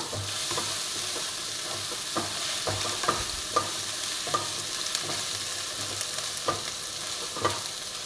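Masala spices with salt and turmeric fry and are stirred in a pan for paneer tikka dum biryani, a steady sizzle broken by repeated scraping strokes of the spoon at an irregular rhythm, close up, with no talk.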